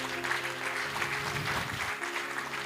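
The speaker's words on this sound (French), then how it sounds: "vous pouvez l'applaudir." An audience in a university lecture hall gives the speaker's wife a short, steady round of applause, the massed clapping holding an even level throughout over a faint electrical hum.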